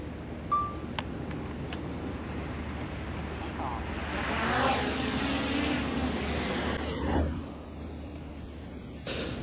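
A drone flies overhead near a stage door outside a studio complex, a steady mechanical whir that swells and fades over ambient street noise.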